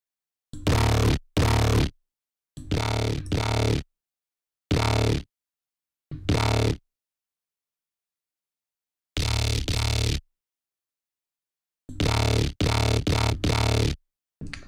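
A synthesized dubstep growl bass, shaped by tweaked waveform settings, plays in short, loud, separate bursts of one or two notes with silent gaps between them, and no talk.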